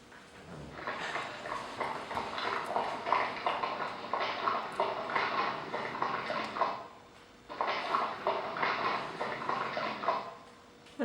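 Horse hoof steps as a sound effect: two stretches of steady, dense stepping separated by a short pause, fairly close and even in loudness, with no talking.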